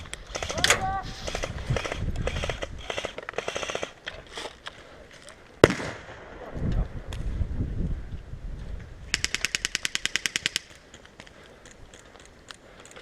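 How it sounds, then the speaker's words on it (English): An airsoft grenade goes off at an airsoft field, one sharp, loud bang amid shouting players, later followed by a rapid burst of clicking shots. "Grenade!"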